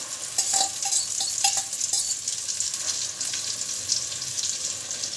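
An egg omelette seasoned only with salt frying in oil on a new tawa, a steady bright sizzle with occasional light metallic taps and scrapes, close and without speech.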